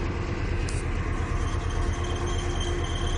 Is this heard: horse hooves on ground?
no